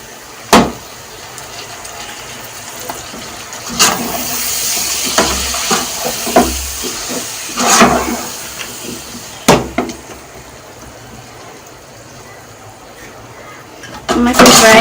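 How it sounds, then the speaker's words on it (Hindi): Two large chopped tomatoes hit a hot pan for a bottle gourd chicken curry, setting off bursts of loud sizzling hiss amid knocks of a utensil against the pan, then settling into a softer, steady fry. "मैं इसमें 2 बड़े चॉप किए हुए टमाटर ये ऐड कर दूंगी।"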